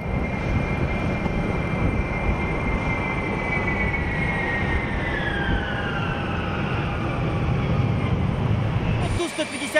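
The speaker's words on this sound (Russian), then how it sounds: "лайнер пронзает снежный заряд над взлетно-посадочной полосой" A Tu-154 airliner lands through a snow squall at Novosibirsk airport, its loud, steady jet roar carrying a whine that slowly descends in pitch before the sound cuts off abruptly near the end.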